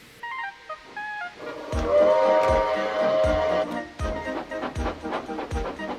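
A steam train hauled by the locomotive Robert chuffs along in steady, rhythmic beats with hissing steam, a long whistle blast sounding near the start before the regular exhaust puffs continue.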